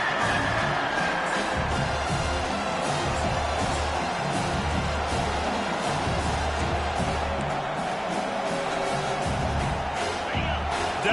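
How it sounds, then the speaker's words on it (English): A football stadium crowd roars steadily behind the defense on a third-down play during a league game, a dense, loud wash of cheering that holds for the whole stretch with no single voice standing out. "Decibels rising as the crowd gets behind this defense on third down."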